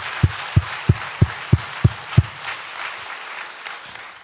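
A church congregation claps in praise at a testimony service, with a crowd's broad clapping overlaid by seven steady, evenly spaced low thumps, then fading into a softer patter.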